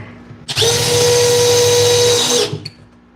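A power drill drives screws during furniture assembly at a workstation, a loud steady whine lasting about two seconds with a sharp start and stop, close to the mic and alone.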